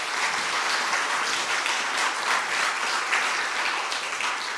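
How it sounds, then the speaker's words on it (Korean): A church congregation applauds its praise team and choir during a Sunday morning service, steady dense clapping filling the room evenly throughout with no voices over it. "우리 찬양팀과 우리 성가대 박수 한 번 더 해주시죠"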